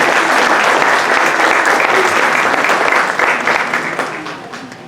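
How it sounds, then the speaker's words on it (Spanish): Loud, dense applause from an audience welcoming a doctor to the podium at a medical talk on ventilator-associated pneumonia, sustained for several seconds and then tapering off gradually. "Recibamos con un fuerte aplauso al doctor Samuel Alejandro Gómez Lucas"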